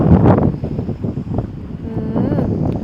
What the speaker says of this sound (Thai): แต่ลมแรงลมดีดี